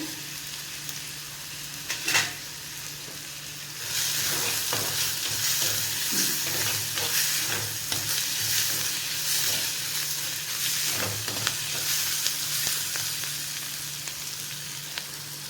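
Onion, tomato and green chili frying in a pan for a spicy potato stir-fry, a steady close sizzle with spatula stirring scrapes and taps; a quiet stretch gives way to constant loud frying after the first few seconds.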